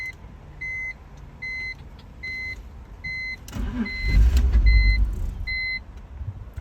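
A BMW E46 with a fault cranks, catches briefly with a rough low rumble, then dies right away, amid repeated electronic warning chimes pulsing in a steady rhythm, close and alone without talk.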